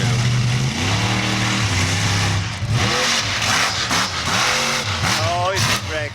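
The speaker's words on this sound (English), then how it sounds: "Just revving up, ready to go for another go." Bigfoot monster truck at a display at Harewood House in 2015, its engine revving repeatedly in rising and falling bursts, loud and close, with crowd noise underneath.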